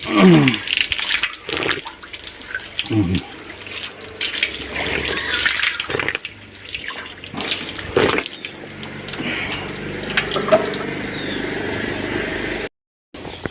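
Holy water runs from a spring-fed kund at a pilgrimage shrine, giving a steady splashing gush with voices talking over it and a brief break near the end.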